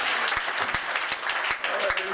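Brief applause from a church congregation during a sermon, a few distinct claps over a murmur of crowd sound and voices.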